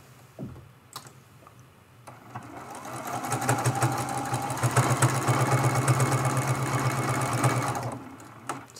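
A sewing machine stitches a scrappy crazy-quilt pin cushion, starting after a few soft handling knocks and rising to a steady close whir of rapid needle strokes for several seconds before stopping.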